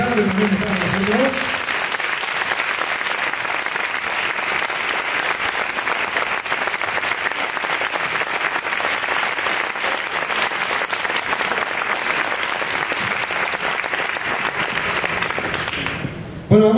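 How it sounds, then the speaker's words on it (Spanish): Sustained applause from a concert audience at a copla and cante flamenco show in Torremolinos, a dense, steady clapping that fills the room for about sixteen seconds and cuts off abruptly at the end. "darles ese fuerte aplauso"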